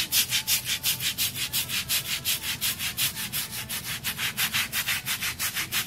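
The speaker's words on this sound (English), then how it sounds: "So I'm just gonna take a nail brush because it's all I have and" A nail brush scrubbing dirty floor grout in a salon: fast, even back-and-forth strokes, about four per second, close and steady throughout with no talking.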